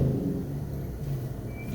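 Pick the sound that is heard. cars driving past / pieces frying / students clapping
cars driving past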